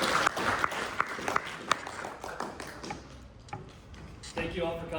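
Audience applause for a speaker at a talk about a former student-athlete, with scattered claps and taps that are fairly close and uneven, mixed with crowd noise, and a voice beginning to speak near the end.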